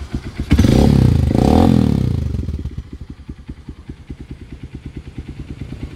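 A freshly overhauled Honda XR150L dual-sport motorcycle fires up on a single kick in the morning, roaring briefly as it revs before settling into a steady, rhythmic thumping single-cylinder idle, close and loud, with no talking.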